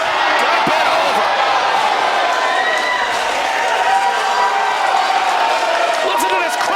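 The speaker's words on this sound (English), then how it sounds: "Listen to this crowd, Sam." A wrestling crowd in the Westbrook Guard Armory roars and cheers continuously, a dense, loud wash of voices and applause filling the hall, with scattered shouts and thuds over the steady din.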